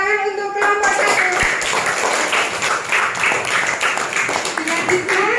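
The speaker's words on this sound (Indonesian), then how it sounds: "tepuk tangan untuk kelompok 1." Children in a school classroom clap together for a group that has finished presenting, a loud, lively patter of small hands with some voices mixed in.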